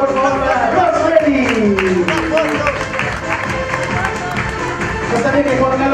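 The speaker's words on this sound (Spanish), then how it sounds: "Un aplauso, por favor, para Romeri" Applause and cheering break out from wedding guests for the bride Rosmery, clapping and crowd chatter mixing with a sliding whistle-like tone, moderately loud and continuous.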